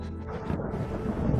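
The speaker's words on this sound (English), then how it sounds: "Suddenly, storms began to form" Deep rumbling thunder in a storm over the open ocean in a children's animated story, a low rolling roar that swells and surges for a moment without any talk.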